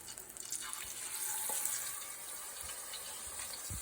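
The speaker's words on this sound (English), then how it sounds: "The sound of frying is so satisfying." Shrimp sizzle and crackle in hot oil in a pan, a steady hiss with scattered pops, fairly quiet and close, with no voices.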